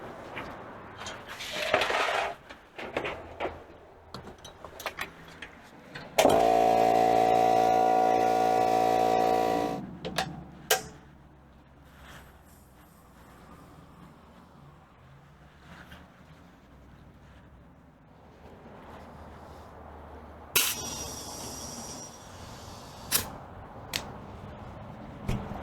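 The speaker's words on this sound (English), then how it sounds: "Maybe we'll put some air in those back tires and just see how she sits." Air is pumped into the back tires of a homemade Yamahonda machine in a loud, buzzing, harmonic burst lasting a few seconds, with a shorter hissing burst later amid scattered clanks and knocks in a quiet workshop.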